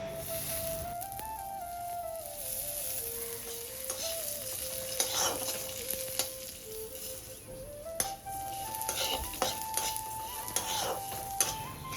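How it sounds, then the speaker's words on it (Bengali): Cashews, raisins and raw rice frying in a little oil in a kadai for a Bengali vegetarian chal potol, with a steady close sizzle, scraping stirs of a spoon against the pan, and a faint tonal line running underneath. "এখন ভাজবো কাজু কিশমিশ আর চাল"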